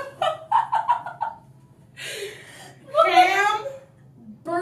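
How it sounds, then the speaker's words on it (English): A turkey-like bird gives a gobbling call of several quick pulsing notes, fairly close, alternating with a person speaking excitedly. "Oh, look at that bird."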